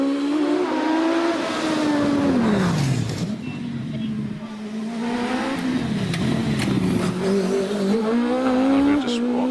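A 40cc OMS race car at the Midland Hillclimb Championship in Prescott revs and climbs toward the finish line. The engine note rises and falls as the car shifts through gears, with a commentator speaking over it.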